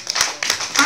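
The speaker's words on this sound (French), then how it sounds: "On acclame pour Jésus. Acclamons pour Jésus très fort." A church congregation claps together at a Pentecost service to acclaim Jesus, in three loud, close bursts of hand claps with short gaps between them.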